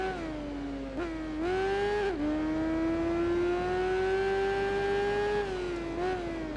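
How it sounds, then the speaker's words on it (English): Motorcycle engines race in Tourist Trophy during a K1200R Cup, a loud sustained high-revving whine that climbs and dips with gear changes, with no talking. "To the sound of bikes."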